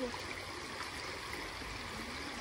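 Muddy rainwater running in a stream, a steady soft rushing and trickling flow, fairly faint and continuous, with no talk.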